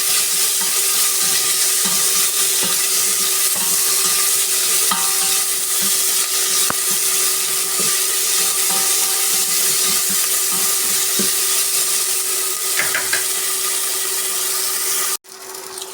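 Green chilli and garlic fry in a pan while being stirred, giving a continuous close sizzle with repeated scraping and rubbing strokes. It cuts off abruptly near the end.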